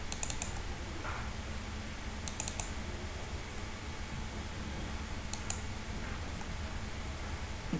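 Computer mouse clicks while a registration form template is opened, heard as a few quiet, sharp clusters of two or three clicks spread apart over low room hiss, with no talking.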